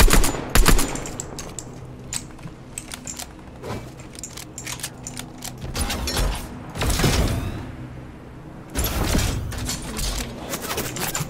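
Rapid gunfire in the Fortnite video game, with bursts of automatic weapon shots and heavier blasts from close range, repeated across the scene with short pauses between volleys and no talking.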